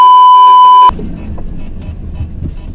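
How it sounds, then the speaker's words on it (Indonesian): A loud, steady electronic beep tone from a UD Quester truck's safety alarm sounds for about a second and then cuts off abruptly, leaving low rumbling background noise. "Alarm safety ya yang bunyi-bunyi ya."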